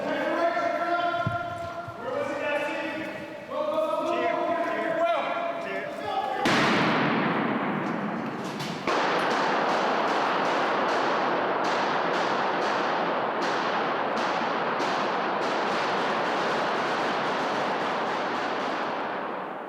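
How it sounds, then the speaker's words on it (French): Rapid bursts of gunfire crackle in quick succession after talking, with sharp repeated cracks over a dense, noisy background, during the 2014 Ottawa shooting. "vous entendez les rafales de balles sur ces images"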